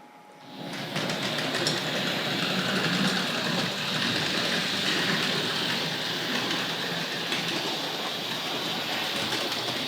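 A Tri-ang Railways RFX Suburban model electric train rumbles steadily along its track after a quiet start, a continuous close clatter with no voices.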